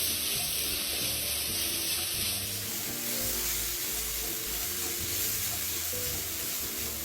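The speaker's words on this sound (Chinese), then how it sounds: "将食材与调味料一起拌炒均匀" Chicken wings tossed with five-spice powder, soy sauce and salt stir-fry in a pan, giving a loud, steady sizzling hiss that runs without a break.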